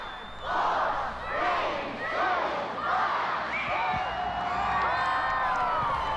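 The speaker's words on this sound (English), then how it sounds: "This is the Christmas tree lighting from Portland in 1992. You can see there's a pretty big crowd there." A large outdoor crowd at the 1992 Portland Christmas tree lighting cheers and whoops in rising waves, with shouts and calls layered over a steady roar, heard from within the gathering.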